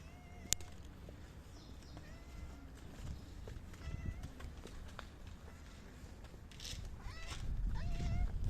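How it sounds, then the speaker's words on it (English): A hungry calico community cat meows softly outdoors, a few faint meows spread over windy background noise and handling sounds. "So we found a cat. The cat seems to be hungry."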